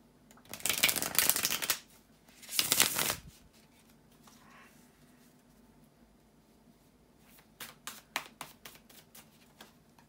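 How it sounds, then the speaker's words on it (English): Tarot cards are shuffled by hand in two loud riffles, followed later by a series of quieter taps and shuffles, with no one talking. "to give a good shuffle to the cards"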